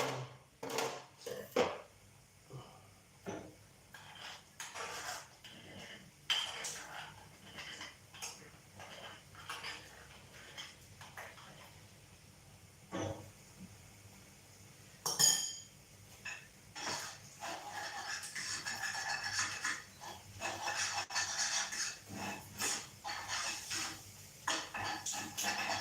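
A metal spoon clinks and taps against a bowl while oats and fruit are prepared, a series of sharp, close knocks and scrapes at irregular intervals with soft handling noise between them and no talking.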